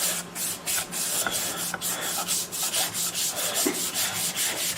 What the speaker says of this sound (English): A lot of sanding when you're making stuff.